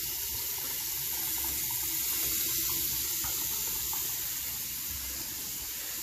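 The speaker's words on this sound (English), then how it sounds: "Once you get hot water and cold water, you want to just leave it running." Hot and cold water run steadily from a tap into a sink during a home plumbing check, a constant loud hiss and splash with no talking.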